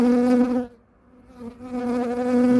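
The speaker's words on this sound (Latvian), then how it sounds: "Peru rāmis, bites sēž virsū periem." Honeybees crowd over a brood frame lifted from a hive during a spring inspection, giving a close, steady droning buzz that dips briefly and then swells back to full strength.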